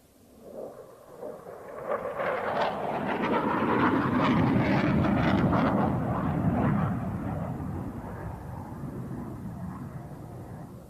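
A JF-17 fighter jet passing at an air show, a broad roaring rumble that swells over several seconds, peaks mid-clip, then slowly fades while still audible.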